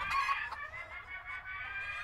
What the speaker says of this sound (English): Go open the chicken coop, Poppy.